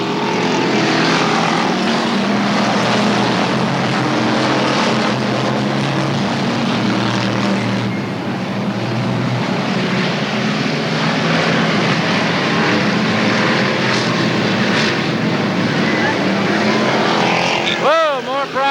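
Street stock race cars roar around Cowtown Speedway in 1990 during a feature race, a dense, continuous loud engine drone with passing swells and a pass-by sweep near the end, while an announcer talks over it.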